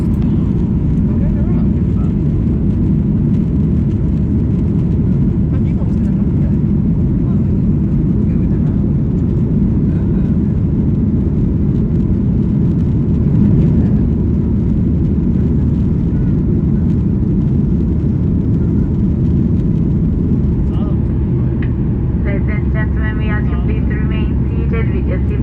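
Airliner engines roaring during a go-around over Pisa on a Stansted to Pisa flight, a loud, constant cabin-level drone that stays steady throughout with a faint swell midway.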